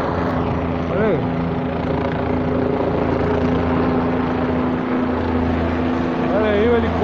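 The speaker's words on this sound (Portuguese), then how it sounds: "Olha aí o helicóptero da polícia." A police helicopter flies low near power lines over Nova Friburgo, its rotor drone a loud, steady, close rumble throughout, with a person briefly talking over it near the start and end.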